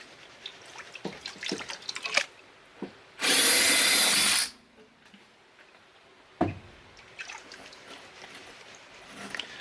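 Impact mill crushing quartz rock mixed with topsoil at a gold-prospecting setup: a loud roaring grind for about a second amid scattered knocks and clatter, with a sharp thud after.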